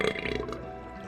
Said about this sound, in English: That was a loud ass fucking burp.